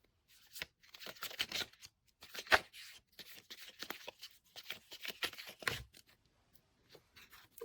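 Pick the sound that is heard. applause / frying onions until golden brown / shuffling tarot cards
shuffling tarot cards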